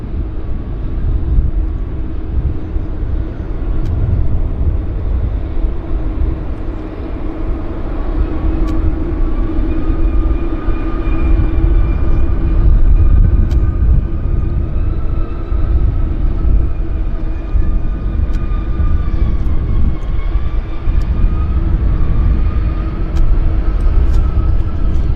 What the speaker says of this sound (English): And here's our Toronto inbound, taxiing very nicely.